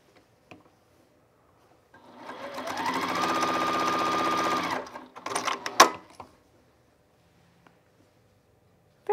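A new sewing machine runs a short burst of stitching, a fast mechanical rattling whir of about three seconds, followed by a few sharp clicks and clunks of the mechanism in an otherwise quiet room.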